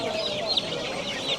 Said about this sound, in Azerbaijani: Burada balaca cücələr də var.